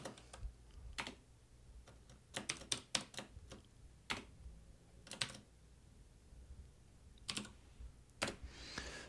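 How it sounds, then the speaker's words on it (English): Scattered keystrokes on a computer keyboard click quietly at an irregular pace, with short quick clusters and pauses over a faint low background hum. "I'll type that in."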